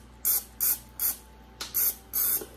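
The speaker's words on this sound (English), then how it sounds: "I'm using some Pam right now" Pam buttery cooking spray is sprayed onto a baking pan for cookies in short bursts, six quick hissing sprays with brief pauses between them, close and clear, with no talk.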